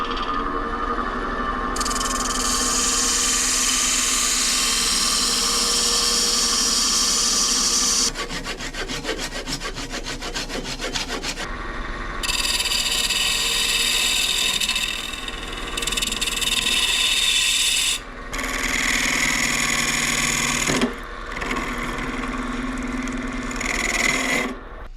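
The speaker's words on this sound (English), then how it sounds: "So I'll be doing that at the bandsaw" A bandsaw cuts a wooden blank for a turned two-wood dish, giving a loud, continuous buzzing rasp in several long passes with brief changes in tone between cuts. No one speaks.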